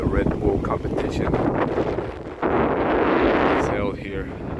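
Gusting wind buffets the microphone with a loud, rumbling roar on a coastal cliff-diving spot, swelling and easing over a few seconds.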